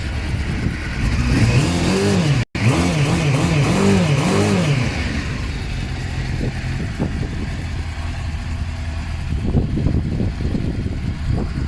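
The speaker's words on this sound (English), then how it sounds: "the bike starts and sounds like this" A Suzuki GSX-R SRAD or BMW F650 motorcycle engine cranks and catches with a brief cutout, then idles and revs in uneven bursts, loud and close with no talking.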